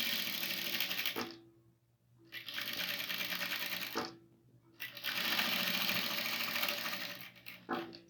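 A sewing machine stitches fabric for a bunny backpack at close range, running in sustained bursts of rapid needle clatter separated by two brief pauses.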